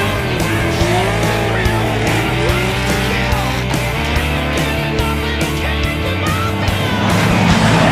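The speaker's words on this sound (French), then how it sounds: "Une Mercedes AMG GTS et son V8 biturbo." A Mercedes AMG GTS with its V8 biturbo engine roars continuously at full power, loud and close, its engine note sweeping through gears at racing speed.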